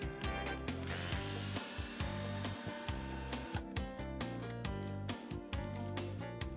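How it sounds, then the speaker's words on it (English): A power tool whirs at close range with a dense, steady buzzing drive and brief stops and restarts, removing dashboard screws on a Mercedes W164 during instrument panel removal. "Here are the next screws to be removed."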